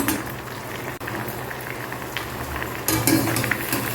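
Bitter gourd pieces boil steadily in a pot of water, a continuous bubbling that grows a little stronger near the end, with no voices.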